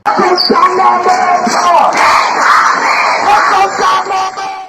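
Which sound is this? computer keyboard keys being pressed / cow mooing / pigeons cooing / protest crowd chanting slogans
protest crowd chanting slogans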